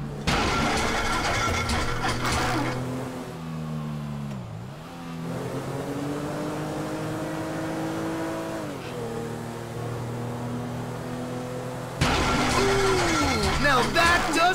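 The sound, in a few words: boat engine breaking down in video game GTA 5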